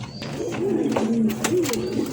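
A yellow fancy Knot pigeon coos close by in soft, rolling, repeated calls, with faint rustling and a few light clicks in the background.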